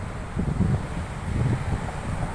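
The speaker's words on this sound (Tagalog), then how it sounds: "Ayun oh, malakas ang hangin oh." Strong wind buffets the microphone in a hot outdoor hangout spot, a low rumbling rush that swells and eases in gusts with no voices.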